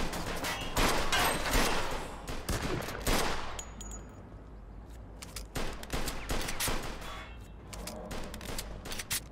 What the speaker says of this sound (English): Don't run in front of me when I'm shooting